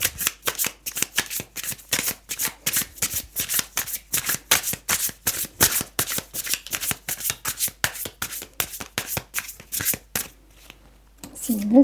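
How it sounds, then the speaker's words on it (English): Tarot cards are shuffled close up in a rapid, steady riffle of crisp flicks and slaps that continues for several seconds before trailing off. "Let's get a couple more cards out and see if we can elaborate."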